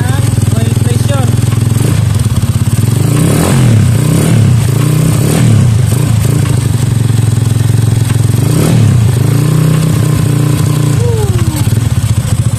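Rusi Flash 150 motorcycle engine running steadily after an oil cooler installation, a loud continuous low rumble with mechanical clatter and a few revs rising and falling throughout, with people talking over it.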